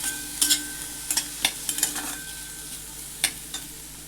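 Onion roasting in a little oil in a pan for a Maharashtrian drumstick bhaji, with a soft background sizzle and scattered sharp spatula scrapes and taps at irregular intervals, no talking.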